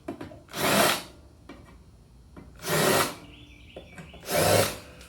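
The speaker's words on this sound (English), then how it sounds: "It gets rid of all the burr where the bit punched through. I go through and do both sides." Three short power-tool bursts deburring drilled holes in sheet metal, each about a second long and separated by quieter gaps with small clicks, close and fairly loud.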